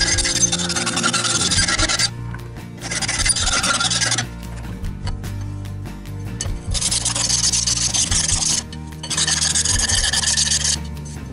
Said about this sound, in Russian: У меня что-то есть желание сначала их шлифануть наждаком, наждачкой